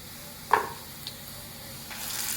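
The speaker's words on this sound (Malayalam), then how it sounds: "കടുക് താളിച്ച്" Mustard seeds tempering in hot oil for a curry give a sharp pop and brief crackle, then a quieter hiss that swells into a steady sizzle near the end.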